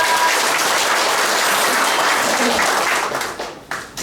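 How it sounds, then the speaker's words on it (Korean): Audience applause at the opening ceremony of a rhythm dance academy, dense and steady clapping that thins and trails off near the end. "박수 부탁드립니다."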